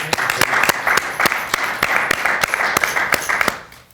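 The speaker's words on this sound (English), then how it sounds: "Let's do a quick round of applause for Ken." A studio audience applauds steadily for about three and a half seconds, with sharp individual claps cutting through the dense clapping before it fades out at the end.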